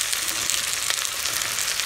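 Onion frying in hot oil with cumin and garlic, a dense, steady sizzle close up that crackles continuously with no voices over it.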